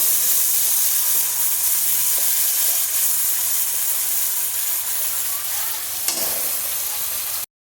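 Poppy seed, cashew and raisin paste, thinned with water, sizzles loudly in hot oil in a pan. The steady hiss of frying is near and continuous, with a faint stir partway through.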